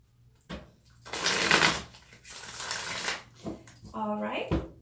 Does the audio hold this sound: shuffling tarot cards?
yes